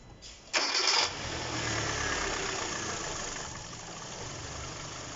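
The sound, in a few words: Kia Cerato engine running after alternator replacement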